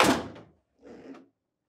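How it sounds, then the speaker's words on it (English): GE French door refrigerator door lifted off its hinge, a close thunk followed by a softer second knock after a short pause. "Now, lift the door up and away from the refrigerator."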